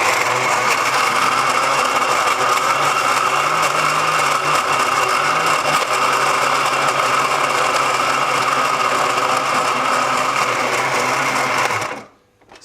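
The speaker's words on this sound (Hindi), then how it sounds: "2 से 3 मिनट के लिए ब्लेंडर चलता रहेगा जिससे ये पूरा मिक्स हो जाएगा।" An electric blender runs continuously, blending mango shake with sugar and ice, a steady loud motor whir that holds nearly the whole time before cutting off abruptly at the end.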